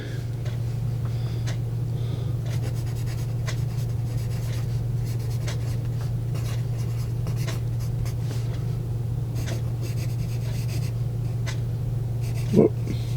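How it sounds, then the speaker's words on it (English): A Musgrave Yellow Special #2 pencil scratches across paper in a continuous run of short strokes, close and clear over a steady low hum. "Very nice. Nice writing pencil."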